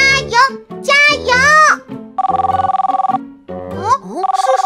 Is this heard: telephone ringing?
yes